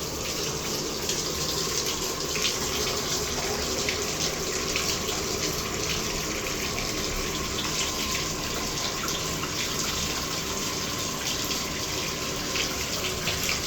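A household shower runs in a bathroom with a steady, continuous rush of spraying water. The sound is loud and unbroken for the whole stretch, with no voices.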